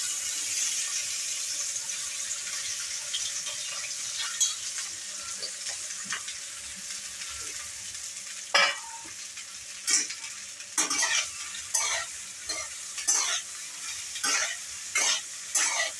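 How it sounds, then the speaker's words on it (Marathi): Okra frying in hot oil in a kadhai: a continuous soft sizzle, then a run of sharp spatula scrapes and knocks in the second half, with no one speaking. "तेल गरम झाल्यानंतर त्याच्यामध्ये भेंडी आपण परतवून घेणार आहे अगोदर भाजून घेणार आहे"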